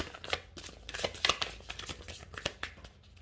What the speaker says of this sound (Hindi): तो चलिए लाइव शफल करते हैं।